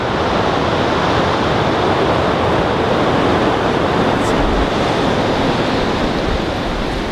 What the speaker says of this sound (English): Listen to that. That's just wind.